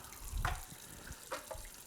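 Running water from a tap rinsing the cap of a Sana 727 Supreme juicer: a faint, soft splashing stream with a couple of brief gurgling swells, quiet and close.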